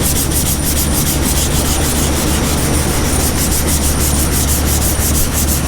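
A sanding block works 80-grit scratches out of a truck body panel with a loud, close, continuous abrasive rasp in rapid, even back-and-forth strokes.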